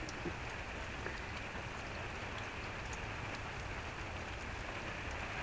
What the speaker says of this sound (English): Sounds like rain to me.